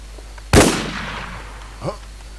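Gunfire in the video game Infest: one loud, sharp shot rings out with a decaying tail, followed about a second later by a fainter, shorter report.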